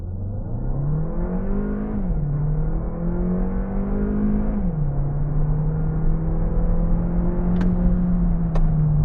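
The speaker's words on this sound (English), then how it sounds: "We're gonna launch it to 0 to 100 and test the brakes." A 2026 Kia Sportage with 180 HP and a 7-speed dual-clutch 4WD launches hard from a stop, its engine droning loudly and rising in pitch, with two quick upshifts dropping the revs before climbing again.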